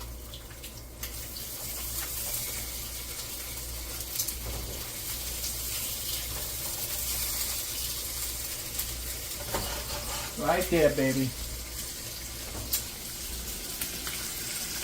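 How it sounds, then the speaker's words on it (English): Eggs and beef franks fry in a pan with a soft, steady sizzle close by. Brief clinks and stirring noises sit on top, and someone speaks a few words partway through. "They're cooking up real nice"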